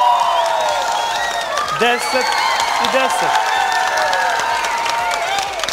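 Audience applause and cheering at a televised singing competition, a steady, dense wash of crowd noise lasting throughout while a voice speaks over it and music plays faintly.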